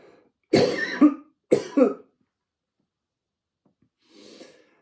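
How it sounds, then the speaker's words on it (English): Two sharp, close coughs in quick succession, followed by quiet and a softer, breathy throat sound near the end. "I want to cough really badly."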